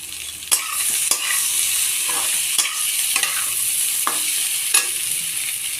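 Crab and potato curry sizzles steadily as it fries in a pan, with a series of sharp spatula scrapes and stirring knocks at irregular intervals, close and fairly loud with no talk.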